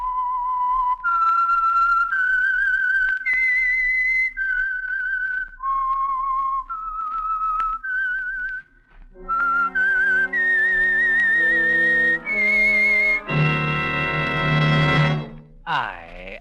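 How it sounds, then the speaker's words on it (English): A melodic whistled radio program signal tune from 1949's The Whistler, clear and sustained, rising through a short phrase and then repeated over a deeper orchestral swell that ends in a loud chord. "the signal to listen for is this whistle"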